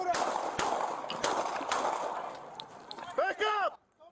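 Police bodycam gunfire during a confrontation, several sharp shots cracking over a chaotic, noisy scene with shouting voices nearby, moderately loud and close.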